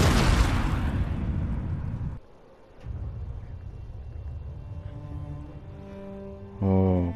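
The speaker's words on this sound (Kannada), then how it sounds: "ಬಾಂಬ್ ಅಟ್ಯಾಕ್ ಆಯ್ತು." A bomb explosion in the Ghost of Tsushima video game opens with a loud, close blast that rolls into a lingering rumble, ending with a brief swell of tonal game music.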